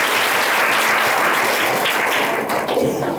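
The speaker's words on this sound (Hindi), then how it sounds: "तालियां बजाओ हमारे भाई के लिए" A room of school students bursts into loud, close, continuous applause, a thick wash of clapping that holds steady for the whole short stretch.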